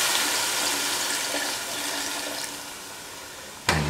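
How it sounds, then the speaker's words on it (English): Three cups of water pouring steadily into a pot of parsley chicken stew, a loud continuous rushing splash that slowly eases, ending with a brief knock near the end. "Pour in 3 cups of water"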